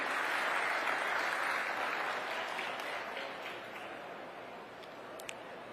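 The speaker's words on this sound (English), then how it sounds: "A round of applause, ladies and gentlemen." Audience applause at a proclamation ceremony for party-list groups in the 2022 Philippine elections, a dense wash of clapping that gradually fades and thins toward the end.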